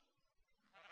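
A sheep bleats in the blocky sandbox game Minecraft, a single faint, short bleat that swells near the end against an otherwise quiet background.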